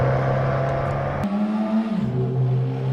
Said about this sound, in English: the Voisin shows promise in its ability to both power down the straights and attack the corners